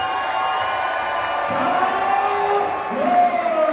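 Home crowd at a high school boys basketball game, Westwood vs. Vandegrift, cheering loudly and continuously in a gym, a sustained roar with shouts and whoops rising toward the end.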